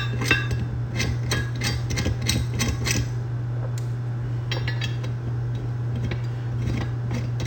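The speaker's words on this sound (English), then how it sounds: "Go ahead and flip the bracket over and start placing your bolts." Light metallic clicks and taps as bolts are set onto a metal fuel filter bracket from a Donaldson/Cat relocation kit for a 2018 Ram 6.7L Cummins, clustered in the first few seconds over a steady low hum.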